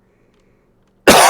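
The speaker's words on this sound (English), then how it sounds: "It was a cough." A single loud, sharp cough bursts out close to the microphone after a second of near silence.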